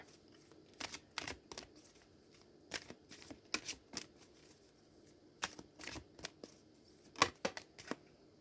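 An Angel Guide oracle card deck being shuffled by hand, with close, crisp riffling bursts arriving in irregular clusters over a quiet background.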